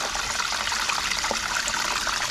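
Water from an internal aquarium power filter set to high flow rushes and splashes steadily, a constant close hiss of circulating water with no voices.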